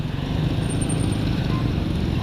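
A motorcycle engine runs steadily up close with a low, rumbling drone as the rider pulls over at a street corner, the sound continuous and fairly loud with no talking.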